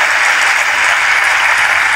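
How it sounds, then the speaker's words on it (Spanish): Theatre audience applauding at a comedy cabaret show in Mexicali, a dense, steady wash of clapping that fills the whole moment at close range. "Un aplauso para ellos, por favor."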